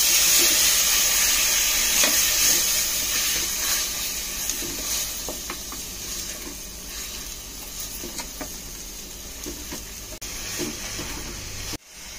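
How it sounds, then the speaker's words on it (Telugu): Chicken sizzling and hissing steadily in a hot pan for gongura biryani, with faint scraping clicks as it is stirred, loudest at the start and easing slightly toward a brief cutoff near the end. "చికెన్ వేసి బాగా కలిపేసుకోవాలి."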